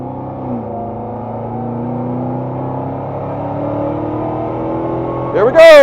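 A Dodge Demon 170 accelerates hard down a dusty private runway. Its engine holds a loud, close, steady roar that climbs gradually in pitch, with a sudden louder burst at the end.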